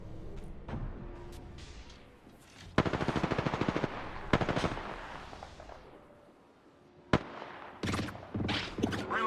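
Video game gunfire: rapid automatic bursts of crackling shots in quick rhythmic volleys, loud and close, separated by quieter stretches with a few single sharp reports, no talk.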